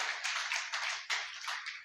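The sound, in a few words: congregation clapping loudly in praise of the Lord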